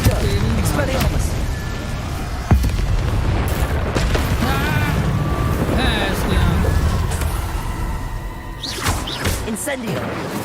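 Confringo and Incendio spells fire in the video game Hogwarts Legacy with loud booming blasts, whooshing flame bursts and sparkling zaps that follow each other rapidly, while a player shouts over the effects.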